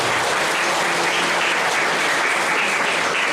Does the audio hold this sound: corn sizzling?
no